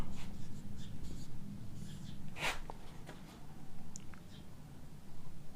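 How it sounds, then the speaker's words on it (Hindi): Pen scratching out notes during a geography lesson on ocean currents, soft intermittent strokes close by over a steady low background hum, no talking. "यदि मैं लिख के दिखाऊं इसमें तो लिखेंगे हम"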